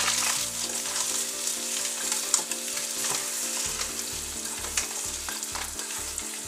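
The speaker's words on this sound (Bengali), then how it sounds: "চিনি দিয়ে দিলাম, চিনি দেওয়ার পরে এটাকে 2-3 মিনিট নাড়তে হবে।" Ripe hog plum pickle with added sugar is stirred in a pan over lowered heat, a dense bubbling sizzle with faint scraping and an occasional tap, steady and close with no voices.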